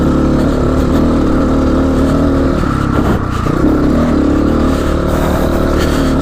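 A GPX FSE300R motorcycle is ridden over rocky ground, its engine droning loud and close with steady revving and a brief dip midway, with rattling clatter mixed in.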